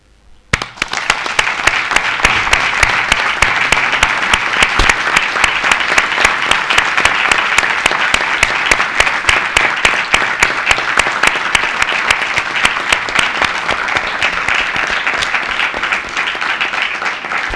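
Sustained applause from an audience at a democratic memory commemoration event in Gijón, a dense, loud, steady clapping that starts abruptly and carries on evenly for many seconds before easing slightly near the end.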